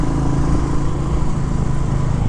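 The 349 cc single-cylinder engine of a Royal Enfield Classic 350 runs at a steady, smooth, close rumble with no voices over it.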